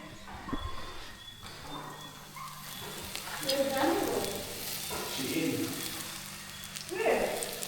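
Plantain frying in a pan, a soft continuous sizzle with occasional stirring clatter, fairly quiet and close, with a voice talking over it at times.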